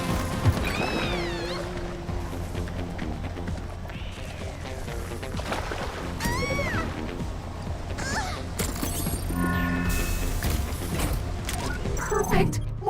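A printer machine in an alien-planet video game runs with a steady mechanical hum, creaks and rising whirring tones, accompanied by background music and no speech.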